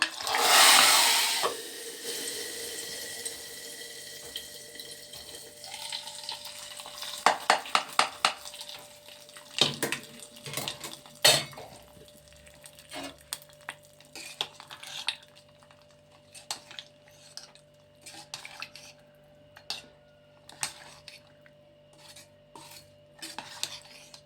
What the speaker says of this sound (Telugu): వేసేస్తున్నాను పోపు.